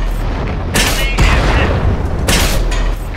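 Loud tank cannon shots in the console game World of Tanks on PS4, fired from a Skoda T-25 tank, two heavy booming blasts about a second and a half apart over a constant low engine rumble.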